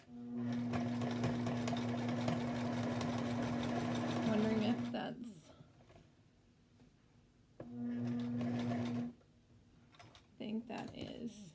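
A home sewing machine runs in two steady, humming bursts as quilt rows are stitched together, its bobbin running out, with pauses and a few clunks between runs and a voice speaking in the gaps.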